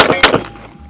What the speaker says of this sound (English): Let's give them a good old mag dumpy.